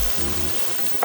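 Diced onion fries in coconut oil in a pan for Ghanaian bulgur wheat angwamu. A steady, close sizzle plays alone, with a brief louder flare at the end.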